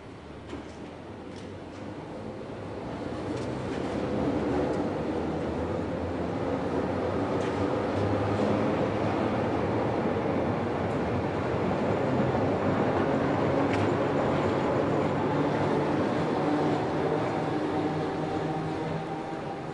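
An old Berlin U-Bahn Kleinprofil type A2 train pulls out of a station, its motor and wheel noise swelling into a sustained broadband rumble and whine that holds steady as it gathers speed.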